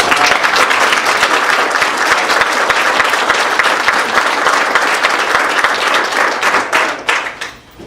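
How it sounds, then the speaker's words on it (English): An audience at a school district board meeting bursts into dense, sustained applause, steady and loud throughout before tapering off at the end. "I think they deserve a round of applause here for anybody."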